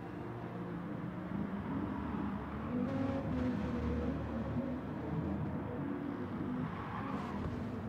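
A Corvette race car engine drones steadily in a racing video game, a continuous low roar with slight rises in pitch as it pushes hard, moderately quiet, no talking.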